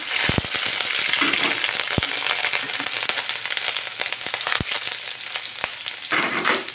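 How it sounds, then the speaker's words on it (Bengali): Mustard seeds and chopped chilli fry in hot oil as a tempering for a red amaranth sweet-and-spicy chutney, giving a loud, steady crackling sizzle punctuated by several sharp pops, with no talking. "প্রথমে আমি সরষা ফোড়ন দিয়েছি, তারপরে কাটা লঙ্কা দিয়েছি"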